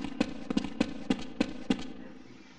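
Suppressed gunfire in Counter-Strike 1.6: six sharp, evenly spaced shots, some doubled, with short decaying tails, loud and close, ending in quiet.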